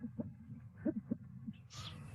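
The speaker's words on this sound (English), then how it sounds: "let's see if we can get that sound now with the great horned owl" Great horned owl hooting, a series of low, soft hoots spaced apart over a faint background hiss, with a brighter, higher sound entering near the end.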